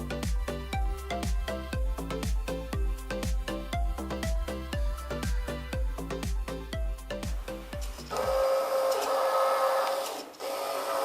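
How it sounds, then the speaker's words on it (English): Small 12 V brushed DC motor driven by a homemade controller, giving a rapid, regular mechanical clatter for about eight seconds before it shifts to a smoother, higher whirring tone. "We are able to control the direction of the brush DC motor easily."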